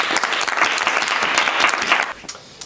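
The winner of a game show is met by a burst of studio audience applause, a thick wash of clapping that holds steady and then drops away sharply near the end, leaving a few stray claps.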